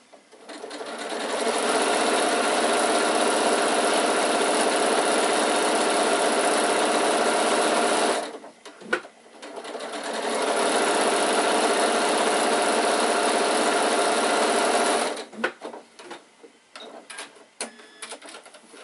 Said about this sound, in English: So I'm going to sew right sides together all the way down to the other end.